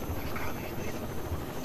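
Helicopter in the video game Rainbow Six Vegas 2, a steady loud rotor drone with rhythmic low thumping that fills the whole moment with no break.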